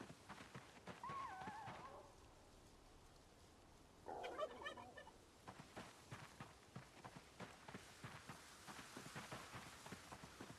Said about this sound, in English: Is that just an ambient weird bird noise?